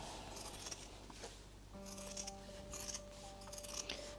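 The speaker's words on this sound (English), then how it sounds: "this seam allowance I will cut back" Scissors cut back a fabric seam allowance on a sewn jumpsuit, giving faint, close, crisp snips and soft rustling in a few short bursts over quiet room noise, with no talking.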